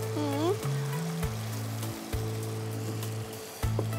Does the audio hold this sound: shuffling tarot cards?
no